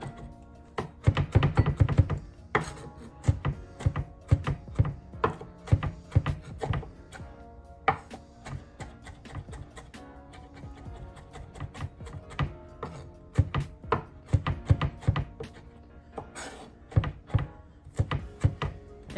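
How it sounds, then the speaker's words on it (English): A knife rough-chops spinach on a cutting board in a steady series of close, crisp thunks with short pauses in between, and no talking is heard. "And then rough chop it."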